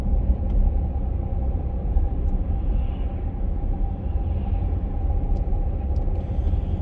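A Mercedes ML350 with a V6 3-litre diesel engine hums in a low, steady drone while driving, heard from inside the cabin as a constant rumble with no talking.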